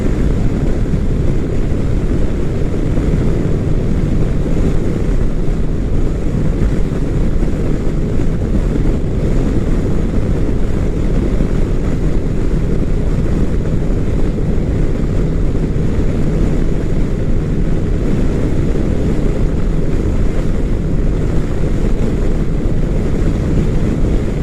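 Wind shear roaring over a rider on a 2005 Yamaha Star motorcycle descending from Cloudcroft to Alamogordo, New Mexico, a loud constant rushing buffet with engine drone beneath and no talk.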